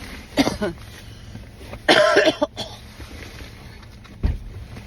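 A few harsh coughs, one short and a louder burst after it, with a throat-clearing rumble at the end. Close and unaccompanied.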